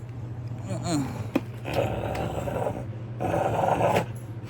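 A dog growls in low, rumbling bursts indoors, close by and fairly loud, while a person talks over it.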